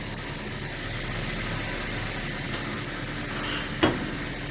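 A car engine idles steadily at close range with a loud, even rumble that holds throughout. A brief click or knock comes near the end.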